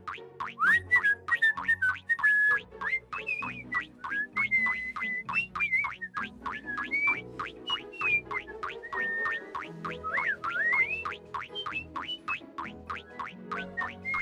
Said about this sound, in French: en sifflotant gaiement.